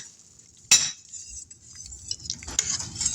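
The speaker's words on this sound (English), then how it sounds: "we're going to add 2 beaten eggs, and then I will whisk these to make it almost like an egg drop soup" A whisk clinks against a pot as beaten eggs are stirred into garlic soup, with a sharp metallic hit followed by lighter scraping and clinking close by.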